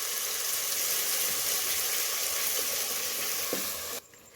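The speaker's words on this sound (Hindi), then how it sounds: "मसालों को 1 मिनट के लिए अच्छे से भून लेंगे लो फ्लेम में" Spices and yogurt fry in a pan on low flame, making a steady, fairly loud sizzle with a faint clink near the end before the sound cuts off abruptly.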